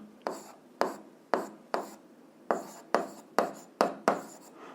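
Chalk-like strokes on a board during an eighth-grade physics lesson, about nine sharp, scratchy marks in a steady, uneven rhythm, each fading quickly. The strokes are close and clear, with no talking.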